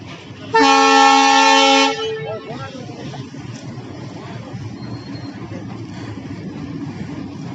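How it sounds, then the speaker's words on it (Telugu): A Kazipet–Nagpur special train sounds one loud, sustained horn blast of about a second and a half as it enters Karimnagar station, followed by a low, continuous rumble of the train rolling in. "train entered into Karimnagar railway station"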